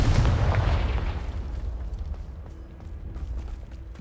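Confringo spell explosion in Hogwarts Legacy: a single loud boom at the start that rumbles and slowly decays over several seconds, heard alone.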